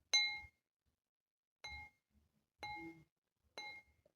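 Four clear bell-like dings struck one at a time with pauses between, each a bright metallic ring that decays quickly, alone in silence.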